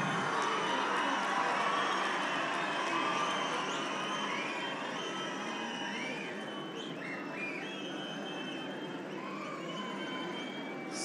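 A large political rally crowd welcoming a new party member produces a continuous roar of clapping and cheering, with shrill whistles rising through it, dense and sustained throughout.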